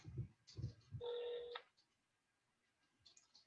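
A telephone being dialed: a few soft taps, then a steady electronic keypad tone lasting about half a second, heard faintly and close in a quiet room.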